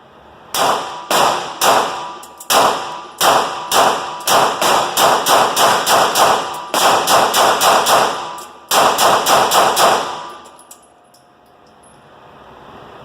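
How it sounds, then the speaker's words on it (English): A Sig Sauer P320 pistol fires without a muzzle brake, sharp loud close reports in quick strings of several shots with short gaps between groups, echoing briefly before falling silent. "Okay, let's start with body shots. Body shots without the muzzle brake."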